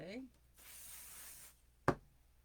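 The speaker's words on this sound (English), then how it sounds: "So I'm going to do my spray. This is my Pixie spray." A short hiss of Pixie spray from a craft spray bottle misted over a scrapbook album page, a soft burst lasting about a second, followed by a quick knock as the bottle is set down, in a quiet room.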